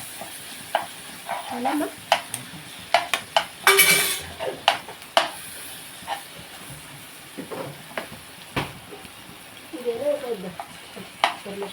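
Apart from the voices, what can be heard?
ginger garlic paste frying in a pan for egg fried rice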